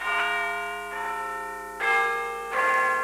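A church bell tolls four times at an even, unhurried pace, each loud ringing strike blooming with bright overtones and fading into the next; no voices.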